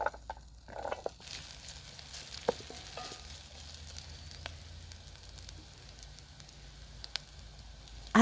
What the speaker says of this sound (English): We continue with the onions, cut into small cubes and sautéed in a saucepan with a little oil until golden.